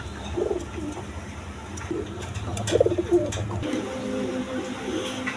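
Red-coloured pigeons of a quality breed, kept by a seller, coo in soft repeated low calls at close range, with faint background noise and no talk.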